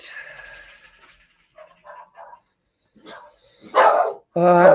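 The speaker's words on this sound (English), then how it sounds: "Dog's got to bark." A dog barks in a few short, close yips and barks after some panting and quiet breathy sounds, with the loudest bursts at the end.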